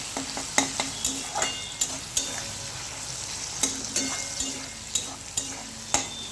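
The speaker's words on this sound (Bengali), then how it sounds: "লবণ আর হলুদ দিয়ে এটাকে ভালো করে আবার নাড়াচাড়া করে নেব" Chicken seasoned with salt and turmeric being stirred and fried in a pan: continuous sizzling with frequent crisp spatula strikes against the pan in an uneven rhythm, close and clear, without speech.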